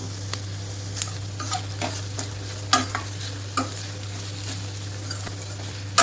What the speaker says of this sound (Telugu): ఇప్పుడు ఈ ఆనియన్స్లోకి కొద్దిగా కరివేపాకు అయితే వేస్తాను